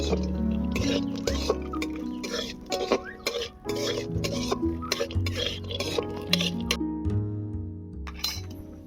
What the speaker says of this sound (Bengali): কড়ার মধ্যে দিয়ে দেব 1 চামচের মতো ঘি। কাজু, কিশমিশ, কাঠবাদাম এগুলো সব ভেজে নেব